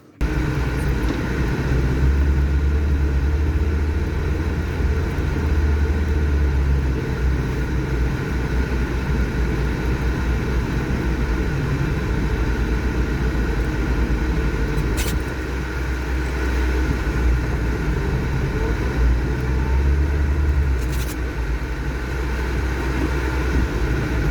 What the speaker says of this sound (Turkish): Arabamız çok güzel gidiyor. Nıva 10 numara.